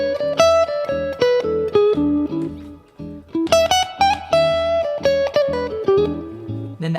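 Single guitar notes run through the E Mixolydian mode, picked evenly in ascending and descending phrases with a short pause midway, close and unaccompanied.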